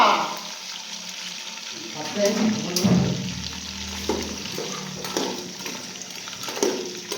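Prawns frying in hot oil give a steady, loud sizzle that fills the clip, with clattering stirring on top and people talking over it.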